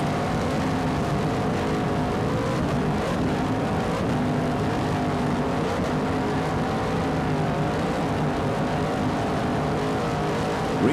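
Two 900-horsepower inboard engines drive racing powerboats at a Grand Prix on the water, a steady, dense roar held without pause throughout, with a slight wavering pitch and no voices.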